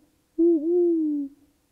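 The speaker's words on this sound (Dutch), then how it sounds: "Dat moeten de uilen zijn" A single owl hoot, a smooth, clear, sustained tone lasting about a second against near silence.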